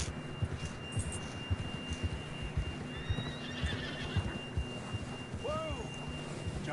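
A horse in Red Dead Redemption 2 gives a brief whinny over the steady clip-clop of hooves and a low throbbing hum, with faint game ambience behind.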